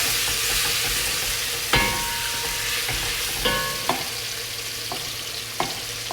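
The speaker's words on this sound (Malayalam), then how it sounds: "ചിക്കൻ ഇട്ട് കൊടുക്കാം നന്നായിട്ടൊന്ന് മിക്സ് ആക്കുക" Chicken pieces fry in a pan with tomato and are mixed for chicken machboos, a close, steady sizzle broken by a few sharp clinks and scrapes of the stirring spoon.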